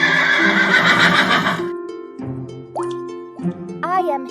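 A horse's whinny rings out loud and close, a long rising-then-falling neigh followed by shorter snorting calls, in a lesson on domestic animals; a voice speaks briefly between the calls.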